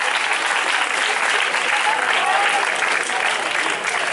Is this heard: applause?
yes